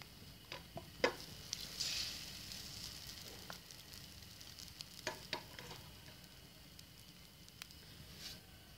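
Egg spread in about two spoons of hot oil in a preheated pan for a spicy bread omelette, a soft steady sizzle with faint clicks and scrapes of a utensil, no talking.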